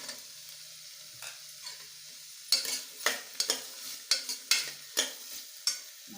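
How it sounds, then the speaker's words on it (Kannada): Carrots, knol-khol and beans hitting a hot pan and being stirred for a vegetable pulao, with a quiet sizzle broken by repeated close scraping stirs in an uneven rhythm. "ನಾವು ಚೆನ್ನಾಗಿ ತೊಳೆದು ಕಟ್ ಮಾಡಿ ಇಟ್ಟಿರುವಂತಹ ಕ್ಯಾರೆಟ್ ಮತ್ತು ನೌಲ್ಕೋಲನ್ನು ಹಾಕ್ತಾ ಇದ್ದೇನೆ."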